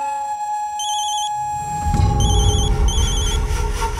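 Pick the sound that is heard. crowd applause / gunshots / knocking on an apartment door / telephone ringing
telephone ringing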